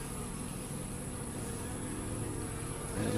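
A swarm of shorter, stubbier honeybees, less bright yellow than golden ones, buzzes steadily around a top bar hive in a dense, continuous drone at close range, slightly louder near the end.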